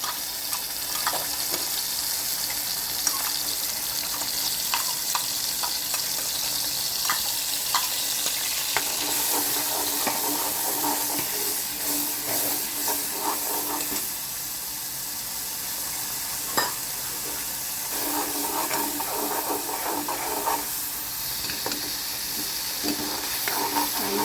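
Chilli and garlic fry in about one and a half ladles of hot oil for a village-style cowpea pod dish, with a continuous crackling sizzle broken by occasional utensil scrapes and stirring knocks.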